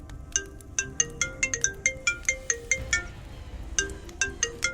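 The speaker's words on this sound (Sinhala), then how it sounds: "එක දවසක් උදේ 6ට විතර කුමාරට කෝල් එකක් ආවා." A phone ringtone for an incoming call rings early in the morning, a repeating pattern of bright chiming tones in quick rhythmic bursts, clear and fairly close, with a short pause before it resumes.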